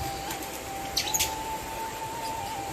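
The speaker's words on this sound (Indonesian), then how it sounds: "Dan di sini ada juga peternakan lovebird." Lovebirds at a lovebird farm give a short burst of bright chirps near the middle, over a steady background hum with no talking.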